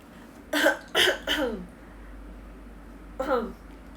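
A few short throaty coughs close up, a quick pair followed by another after a pause, over a low steady background hum.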